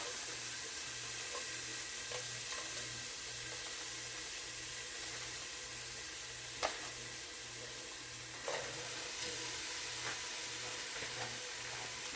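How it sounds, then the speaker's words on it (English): Frozen spinach hitting a hot pot for a spicy okra stew, giving a steady close sizzle and hiss with faint stirring clinks and a low rhythmic hum underneath, no talk. "we're going to put some of our frozen spinach in"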